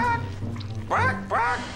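A person imitates a hen with a run of nasal, squawking clucks, loud and close, the final two calls rising in sharp bursts.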